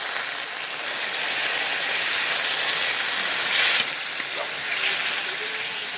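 Water poured into a pan of frying fish curry with spices, giving a steady loud hiss and sizzle that holds throughout, with a brief louder surge partway through and no voices.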